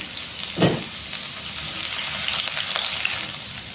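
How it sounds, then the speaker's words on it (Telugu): Garlic sizzles steadily in a hot pan of oil while mutton heart curry is cooked, a continuous close frying hiss with a brief stir or clatter near the start. "ఇప్పుడు మనం తెల్లగడ్డలు వేసుకుందాము అట్లా ఇచ్చిగా తెల్లగడ్డలు ఫ్రై అవ్వాలి"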